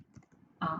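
A short burst of typing on a computer keyboard, several soft clicks then a louder cluster of keystrokes at the end, close and quiet.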